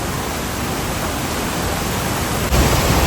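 Tinagong Falls waterfall roars as a dense, constant rush of falling water, loud and unbroken, with a slight thump near the end.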